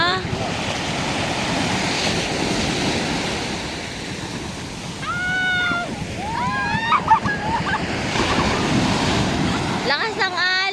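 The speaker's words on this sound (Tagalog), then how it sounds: "Lakas ng alon." Strong sea waves roll and surge continuously on the shore at Candelaria, with heavy wind buffeting the microphone throughout; brief voices cut in near the end.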